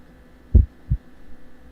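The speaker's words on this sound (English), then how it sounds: "Y'all hear a heart beating." Heartbeat sound effect during a Call of Cthulhu tabletop game session, heard as three heavy, low, muffled thumps in a slow rhythm over a quiet background hum.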